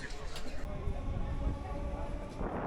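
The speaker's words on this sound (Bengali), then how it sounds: "ট্রেন ছেড়ে দিল আমরা ছেড়ে যাচ্ছি" A Sealdah to Diamond Harbour local train pulls away from the station, a steady low rumble and rattle of the carriages heard from inside, with a rising hiss building at the end.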